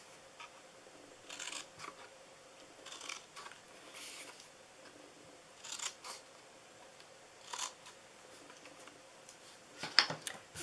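Scissors snip through a paper lid for a chocolate-covered pretzel treat box in quiet, close, crisp cuts, spaced a second or two apart, with a sharper final snip.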